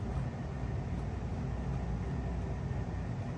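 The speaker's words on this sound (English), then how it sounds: "Furnace has been running all day, off and on, off and on." A home furnace runs steadily through a cold day, giving a constant low, broadband rumble and whoosh that holds even and unbroken at a moderate level with no voices.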